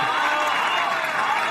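An audience breaks into dense, steady applause, a continuous wash of clapping with crowd noise that stays at an even loudness throughout the short moment.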